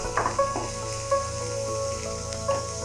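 Green masala sautés in oil for eggplant bharta, a soft steady sizzle close by with a faint background hum and occasional stirring scrapes, no talking.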